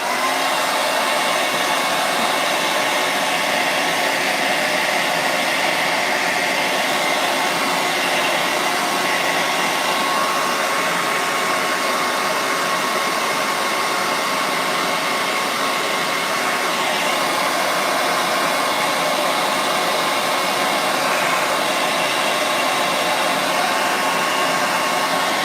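Hair dryer blowing continuously on painted bunnies on an egg-shaped door hanger, a loud, steady, close whooshing whine that holds unchanged throughout, with no talking.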